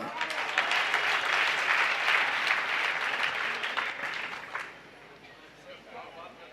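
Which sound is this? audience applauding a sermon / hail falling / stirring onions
audience applauding a sermon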